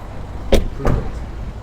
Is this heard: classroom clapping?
no